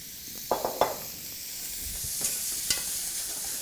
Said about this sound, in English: Let's cook those shrimp up.